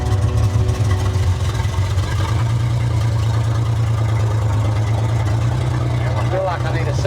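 A 1947 International Harvester KB3 fuel truck engine idles steadily up close, a loud continuous low rumble with a constant drone and no break throughout.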